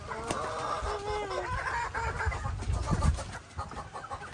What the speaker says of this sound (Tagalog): first time niya pakainin yung mga manok